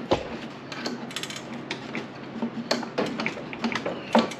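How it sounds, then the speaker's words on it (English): A hand ratchet clicks in uneven bursts as someone tries to turn over a seized, abandoned ATV motor with the compression removed, with metallic ticks and creaks, fairly close and no talking. "Let's see if we can turn our motor over now."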